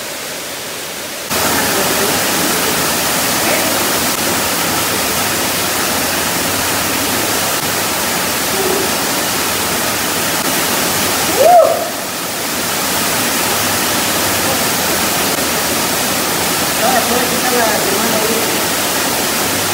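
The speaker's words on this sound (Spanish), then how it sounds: "Y ahora nos vamos a la cascada." Waterfall inside a cave, a steady full-band rush of falling water that holds loud and constant throughout, with a brief thump near the middle.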